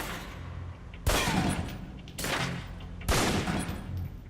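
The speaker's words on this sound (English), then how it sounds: "Equip the pistol, then aim down range and take some shots at the target." Three loud pistol shots fired at a shooting-range target in the video game Alpha Protocol, each a sharp crack with a short ringing tail, spaced about a second apart.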